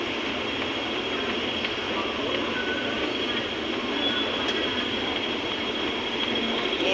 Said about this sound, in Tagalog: Ito yung ano, train sa ilalim.